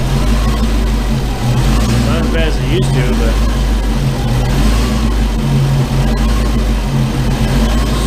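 A Foxbody Mustang with a swapped engine idles roughly up close, a loud steady low rumble that stumbles and wavers as it hunts for idle, with someone talking over it.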